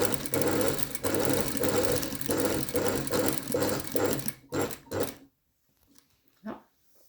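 A sewing machine runs steadily up close as it stitches a seam on a patch pocket, a fast even whirring clatter that stops after about five seconds, followed by a few soft handling knocks.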